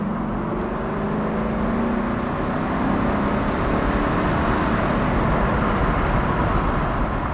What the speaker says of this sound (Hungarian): megszólalt a V8-as